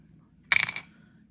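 Dice rolled for a cash-envelope savings challenge game, one short clattering burst of hard rattling and bouncing lasting about a third of a second, close and alone against a quiet background.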